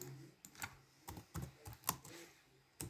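Short bursts of keystrokes on a computer keyboard, a handful of irregular clicks and taps spread across a few seconds, quiet and close, with no talking.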